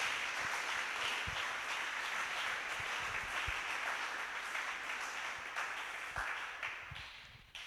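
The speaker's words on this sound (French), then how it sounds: "Acclamons le Seigneur notre Dieu" A church congregation at a French-language prayer and fasting service applauds, a dense, steady wash of many hands clapping that fills the room and fades slightly toward the end, with no talk over it.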